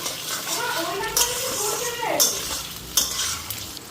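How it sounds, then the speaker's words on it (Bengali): Rice fried with bay leaf in a pan, a soft sizzle broken by several sharp scraping clinks of a spoon stirring, with a voice murmuring faintly in the background. "চালটা এখন একটু ভাজা নিই।"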